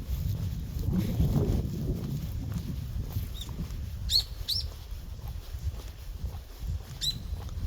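A few short, high bird chirps scattered across a wooded mountain trail in Korea, heard faintly over low rumbling background noise.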